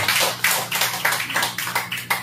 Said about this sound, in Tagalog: Sa mga pong malakas na palakpak po para sa ating Panginoon.